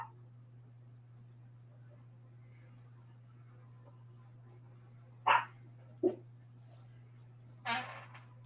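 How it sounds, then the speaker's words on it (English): A dog barks three times at a distance, short separate yelps spaced a second or two apart, against a quiet background with a steady low electrical hum. "Let's see what that crazy dog is barking about."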